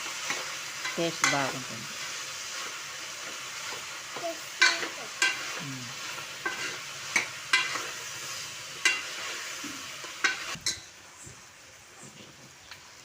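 Tender gongura leaves and stalks fry in a pan, a steady sizzle broken by repeated spatula scrapes and light metallic clinks as they are stirred, with a voice speaking briefly over it.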